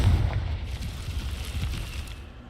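A Confringo fire spell blasts in the video game Hogwarts Legacy, a loud deep booming explosion that rumbles and slowly fades.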